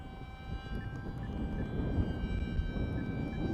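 An Esky Eagle 1100mm RC trainer airplane drones overhead with a steady whining motor tone, held at constant pitch over a broad wind-like rumble outdoors.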